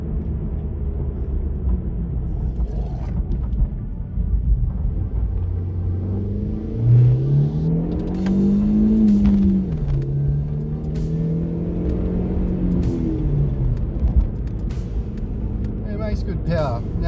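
An Opel Corsa Barina track car accelerates uphill through first and second gear, its engine note rising and falling under steady road rumble, close and fairly loud throughout.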